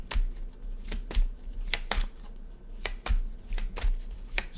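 Tarot cards are shuffled by hand in a quiet room, giving a series of sharp riffling snaps roughly every half second, close and fairly soft.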